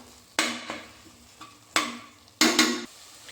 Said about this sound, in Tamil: 2 நிமிஷம் இந்த எண்ணெயிலேயே நல்லா ஃப்ரை ஆகட்டும்